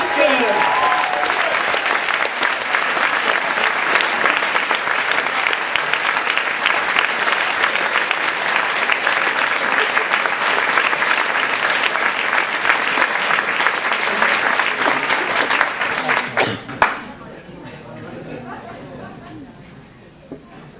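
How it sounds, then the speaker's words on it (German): Sustained applause from a Science Slam audience in Osnabrück welcoming a speaker onto the stage, dense and steady for about sixteen seconds with some chatter, then breaking off abruptly into a quiet room. "machen Sie einen großen, einen 10, einen 15-Punkte-Applaus"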